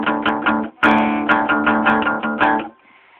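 Two open strings, A and low E, sounded together on an electric guitar in drop-D tuning, ringing as a sustained chord close and loud with rhythmic re-strikes before fading out.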